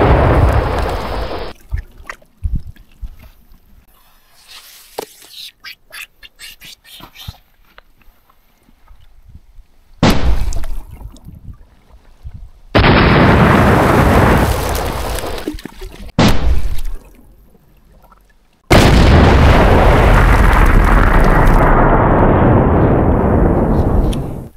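Firecracker bombs blasting in snow near a Chinese border area: several loud, booming explosions arrive in bursts, each followed by rumbling decay and broken up by quieter gaps with faint crackles.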